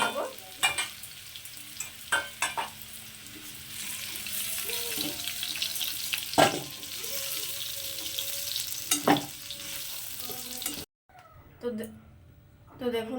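Pumpkin pieces frying in a little oil, a steady sizzle with intermittent spatula knocks and scrapes, while a voice talks over it; the frying briefly drops out near the end.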